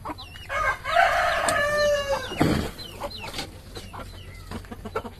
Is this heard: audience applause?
no